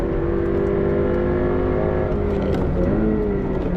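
A Subaru BRZ's engine revs hard toward redline during a track lap, a loud, continuous in-car drone with rising and falling pitch as gears change.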